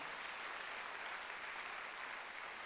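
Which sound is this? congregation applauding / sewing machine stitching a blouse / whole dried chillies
congregation applauding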